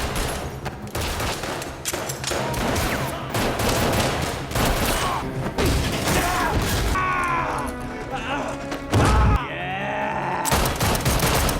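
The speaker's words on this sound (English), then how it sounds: "igniting a ferocious gunfight as Kong's crew unleashes a torrent of fire upon the unsuspecting officers" Gunfire crackles through a crime film gunfight as a gang opens fire on police officers, with dense rapid bursts, booming hits and crashes filling the whole stretch, loud and close.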